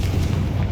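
Loud, booming fiery blast from the Confringo spell in Hogwarts Legacy, a short dense explosive rumble filling the whole moment with no talking.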